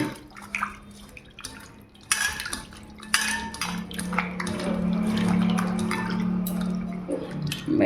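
Raw rui fish being washed in hot water in a metal pot: splashing, dripping water and clinking of dish and utensil knocks, with a sustained running-water wash building in the middle, close and busy.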